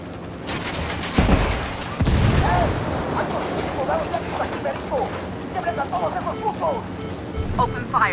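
Gunfire crackles in a firefight in the video game Ghost Recon Wildlands, with sharp bursts and volleys over a rumbling battle backdrop and voices calling out between shots.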